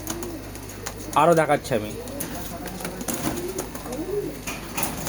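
Pigeons coo near the microphone in a few soft bursts at a pigeon seller's loft, while someone talks over and between the calls.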